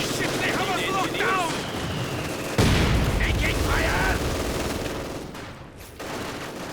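Gunfire and falling mortar rounds in the World War II strategy game Company of Heroes 2: rattling rifle and machine-gun bursts, then a heavy mortar impact that roars and fades, with a commentator talking over the battle.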